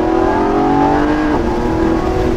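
The Lamborghini Revuelto's hybrid V12 engine revs loudly and close up, its pitch rising and shifting as it accelerates, with no talking over it.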